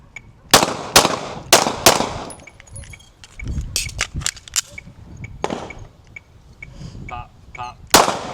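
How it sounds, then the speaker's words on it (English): Pistol shots fired at range targets during a doubles drill, sharp loud cracks in quick pairs spaced across the string, with a final pair at the end and faint background noise between them. "Now try 2 shots on each target with the transition in the middles"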